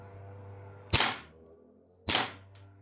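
Two sharp, separate shots from a VFC FNX45 airsoft pistol, about a second apart and close up, over a low steady hum.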